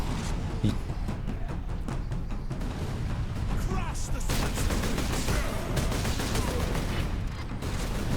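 Companions firing guns in the video game Space Marine, a dense fusillade of rapid gunshots and machine-gun bursts with explosions, loud and continuous, with a voice talking over the combat.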